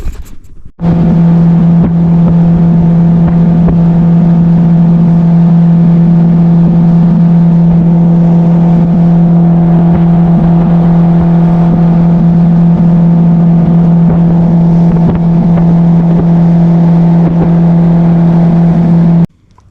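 A fishing boat engine runs steadily at close range during a ride out to find crappie, producing a loud, constant drone with a strong low hum for nearly twenty seconds before it cuts off. No one speaks.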